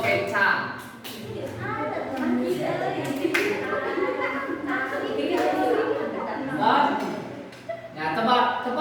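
Hands clap in a classroom several times in quick bursts, rising above steady, close talking from a teacher and children's voices.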